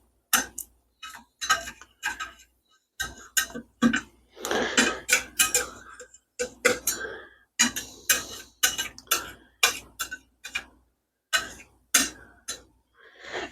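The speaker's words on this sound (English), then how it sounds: "Now I'm going to take my spatula, and I'm just going to kind of go down the sides like this." A metal spatula scrapes around the sides of a pan of cooking breakfast sausage, making a steady series of sharp, close clinks and scrapes, roughly one or two each second, with no talk.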